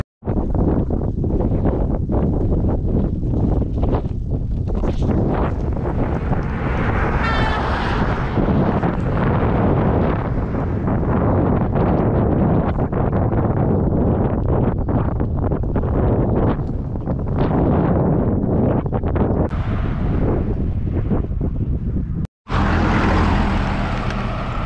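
Strong wind buffets the microphone along a highway in Argentina, a loud continuous roar with gusts and no talk, cutting out briefly near the end.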